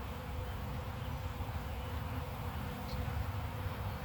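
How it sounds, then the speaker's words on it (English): Honey bees on hive frames in a nuc give off a steady, dense buzzing drone, close and even throughout without pause. "what these bees are doing right now is they are keeping that brood warm by body heat"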